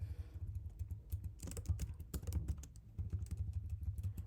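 Code is typed on a computer keyboard in irregular, fairly quiet clicking and clattering keystrokes over a low rumbling background hum.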